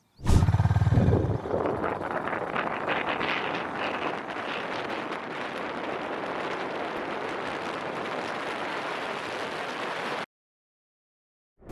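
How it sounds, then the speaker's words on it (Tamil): Honda H'Ness CB350 motorcycle accelerating hard from standstill to 80, a steady loud engine roar mixed with heavy wind buffeting on the microphone for about ten seconds before cutting off. "இப்போ இந்த வண்டியோட 0 to 80 எத்தனை செகண்ட்ஸில் நம்ம வந்து ரீச் பண்ண முடியும் அப்படின்னு பார்ப்போம் வாங்க."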